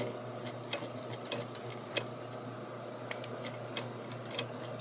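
A sewing machine top stitches a waistband, humming steadily and close with faint regular ticking from the needle throughout.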